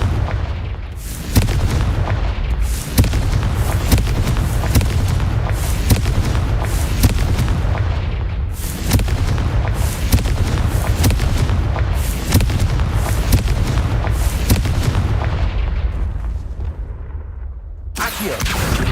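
Repeated fiery spell explosions from Confringo casts in the Hogwarts Legacy video game, a dense 19-second barrage of booming blasts and crackling bursts, loud and continuous with sharp onsets every second or two.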